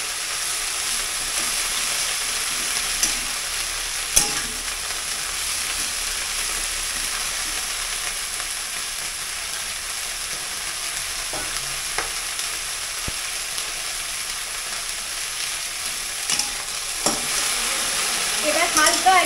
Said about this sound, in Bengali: এবার হালকা এটা যখন ভাজা হয়ে এলো তখন আমি এর মধ্যে গার্লিকটা দিয়ে দেবো।